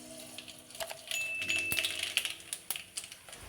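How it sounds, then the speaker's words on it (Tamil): Mustard seeds sputter in hot oil in a pan for a Tamil-style broad bean stir-fry, giving scattered sharp crackles and pops of uneven rhythm over a steady sizzle, close and fairly quiet. "எண்ணெய் காஞ்சதும் கடுகு போட்டுக்கலாம்."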